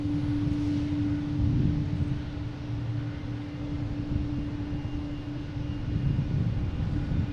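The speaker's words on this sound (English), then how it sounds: "American Airlines taking off," An American Airlines jet takes off at Boston Logan International Airport, its engines producing a steady, loud roar with a strong low rumble and a sustained tonal hum, heard alone.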